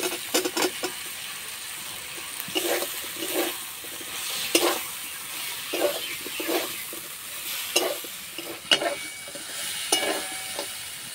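Boiled drumstick stalks fry in spiced oil for a Bengali chorchori while a spatula stirs them, making repeated, rhythmic scrapes and clatters over a low, steady sizzle, close and fairly quiet.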